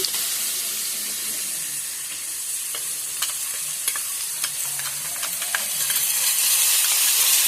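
Water poured into ground turmeric, cumin paste and chili powder while frying for a hilsa fish curry with potato and eggplant, a steady loud sizzle and hiss with scattered clinks of stirring.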